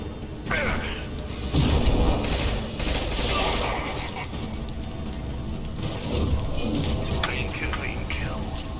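Heavy automatic gunfire in Mass Effect Legendary Edition, a sustained clattering fusillade that runs through most of the stretch with mechanical clanks, layered over game music and effects, with a voice talking at times.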